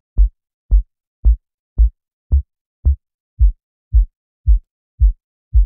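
Tight percussive djent kick drum sample, eleven evenly spaced punchy thumps in isolation, the later hits slightly softer and duller.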